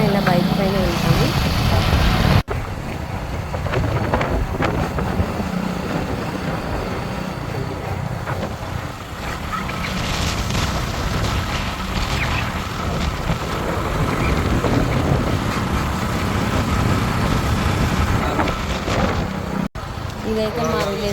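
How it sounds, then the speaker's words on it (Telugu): Steady broadband rush of wind and engine drone while riding a motorbike on a village road, continuous and loud throughout with no breaks. "మేము ఎప్పుడు వెళ్ళినా ఇలా బైక్ పైన వెళ్తాము."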